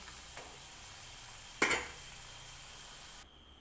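Potato bhaji slices fry in oil with a soft, steady sizzle, broken by one sharp metallic clatter of a utensil partway through, before the frying sound drops away near the end.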